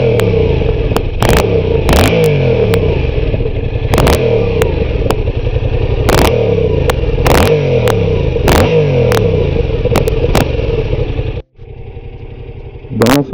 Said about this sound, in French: là on est sur la sortie d'origine. Le son est déjà mieux que la MT-07.